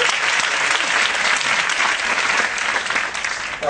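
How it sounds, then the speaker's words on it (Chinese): Sustained audience applause fills a lecture hall at a talk on life advice for 18 to 25 year olds, steady dense clapping from many hands throughout with no speech over it. "来，掌声鼓励一下"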